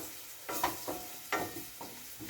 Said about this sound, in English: So the curry is frying up nicely with my other ingredients